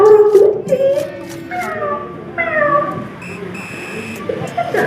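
A storyteller at a preschool teachers' storytelling contest imitates a cat with a string of drawn-out, whiny meows and wails, close and loud, one after another with short pauses between them.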